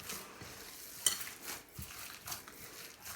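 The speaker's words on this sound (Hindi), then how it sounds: "अब यहाँ पर मुझे कीमे को मिक्स करते हुए तकरीबन 7 मिनट हो गए हैं" Bare hands knead and mix minced mutton for seekh kababs, making soft, faint squishing and slapping sounds in a quiet kitchen. The sound is irregular and close, and no one talks.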